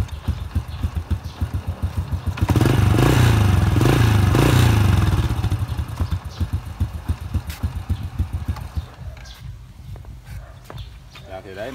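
A 2002 Honda Dream II motorcycle engine revs up briefly, then settles into a steady, close idle with an even putter, while someone talks over it.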